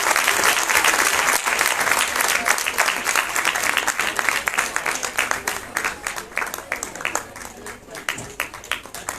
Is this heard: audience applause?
yes